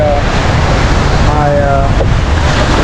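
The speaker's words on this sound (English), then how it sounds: "I'm just chilling on the beach here." Ocean waves wash steadily onto a beach, a loud continuous rush of surf mixed with wind buffeting the microphone, with someone talking briefly over it.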